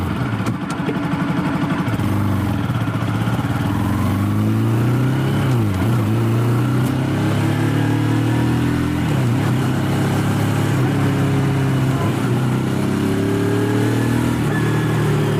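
A motorcycle rides through Lachen, Sikkim, to a hotel, its mid-pitched engine droning steadily throughout with repeated rises and dips as the rider shifts and revs, loud and close with wind noise and no talking.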